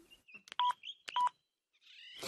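Telephone keypad tones beep as a number is dialed, a few short distinct button presses in quick succession, followed by a rising hiss as the call starts connecting.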